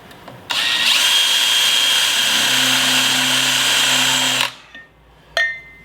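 A power drill with a number 7 bit bores into metal for an oil can holder, a steady loud whine running about four seconds, then stopping, followed by a couple of brief clanks.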